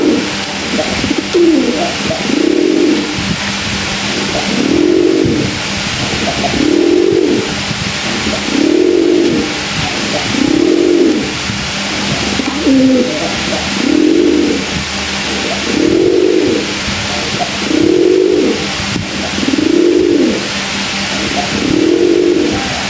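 Pigeons, a male and a female being paired, coo in a steady repeating rhythm, about one soft throaty call every two seconds, close by over a faint background hum.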